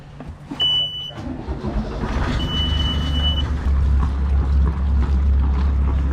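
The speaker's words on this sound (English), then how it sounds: "I'm going to start the engine up now" A sailboat's engine cranks and starts, settling into a steady low idle rumble, with brief high beeps at the start and a faint background hum.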